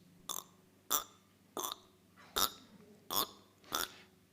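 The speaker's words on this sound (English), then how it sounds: "Let's speed up some burps." Six short, high-pitched burps, sped up, evenly spaced about half a second apart, sound chipmunk-like and clipped.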